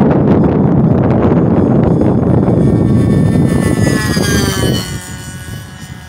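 An SK .50 glow engine with stock muffler and a Master Airscrew 10x7 two-blade prop, fitted to a Global Hobbies Birdie 40 model airplane, runs with a loud, harsh buzzing drone that tapers and drops in pitch toward the end, with wind noise on the microphone.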